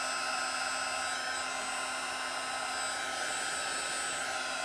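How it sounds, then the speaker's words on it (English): A heat gun blows steadily, a constant whooshing, whining hum heard alone throughout, used for embossing glitter in a craft project. "I'm getting my heat guns."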